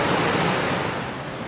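Waterfall pouring in a steady, dense broadband rush, close and loud, with no pauses or other sounds over it.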